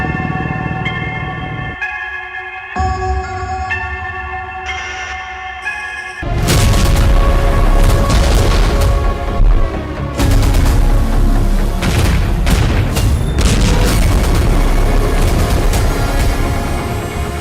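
Explosions from an Israeli Iron Beam strike in the Israel-Gaza war, a low rumble with a few sharp bangs giving way to a dense, loud roar of blasts and crackling fire.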